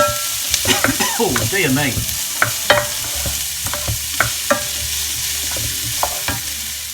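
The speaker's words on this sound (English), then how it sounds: "So what we're going to do now is just fry those down until they're softened up." Onions, peppers and chilies fry over high heat for chicken tikka masala, with a steady close sizzle and scattered scraping stirs throughout; a voice briefly speaks early on.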